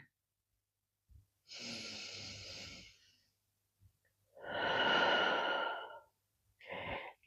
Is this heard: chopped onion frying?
no